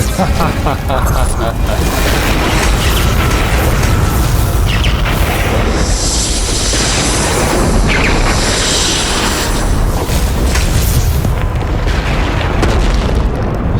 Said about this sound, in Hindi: ये कैसा विस्फोट हुआ?